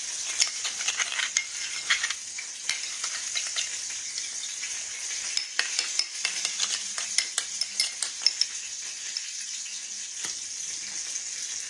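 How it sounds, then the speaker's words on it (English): Chicken vegetable soup being stirred in a pot, a spoon scraping and clinking against the sides with soft liquid sloshing, a steady close run of light taps and swishes with no talking. "Stir that around."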